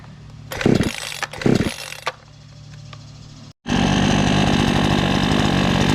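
A Proyama 52cc gas chainsaw is pulled twice, sputtering briefly each time, then after a short gap it fires and runs loud and steady at close range.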